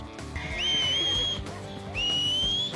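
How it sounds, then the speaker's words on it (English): Two rising whistles call a horse in Red Dead Redemption 2, each a sharp upward slide held as a bright tone, loud and close over faint background game sound. "That is the most annoying whistle."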